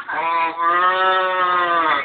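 Someone imitates a cow with a single sustained, nasal moo, loud and close, lasting about two seconds.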